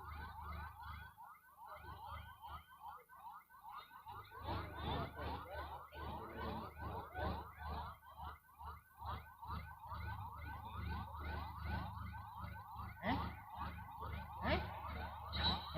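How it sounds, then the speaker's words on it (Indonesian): An ambulance siren wailing as it passes in front of a stage during a Takbir night carnival parade for Idul Adha, its repeating warble loud and steady over crowd murmur and music at an outdoor street event. "Kita berikan akses jalan untuk ambulan melewati depan panggung lagi."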